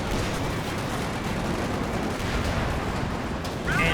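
Battle din from Company of Heroes 2 with .50 cal machine guns firing: a dense, continuous roar of gunfire and explosions filling the whole stretch, loud and unbroken, with a brief swell near the end.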